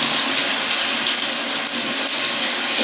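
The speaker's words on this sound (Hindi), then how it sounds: "तो अभी हम इसमें हस्ब ज़रूरत पानी ऐड करते हैं, जिसमें हमारे आलू अच्छी तरह से टेंडर हो जाएं।" Water is poured into a pan of potatoes frying in oil for a capsicum and potato curry, giving a steady loud hiss and sizzle throughout with no voices.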